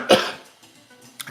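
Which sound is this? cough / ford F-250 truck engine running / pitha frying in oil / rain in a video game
cough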